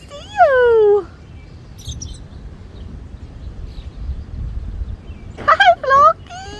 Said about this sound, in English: looks like the birds are after him